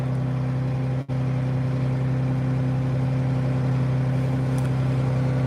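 Farm tractor engine running steadily in the fields, a loud, constant low drone with one brief dropout near the start and no talk over it.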